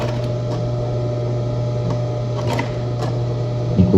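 A sewing machine stitches the strap support of a Kelly handbag, a steady mechanical hum with a constant low drone and faint repeated needle ticks, running alone and close without pause.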